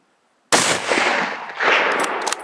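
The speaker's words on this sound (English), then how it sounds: "Get him, keep fucking shooting." Gunshots fired at a moose during a hunt, with a loud, sharp crack that booms and rolls away outdoors, followed by a second echoing blast.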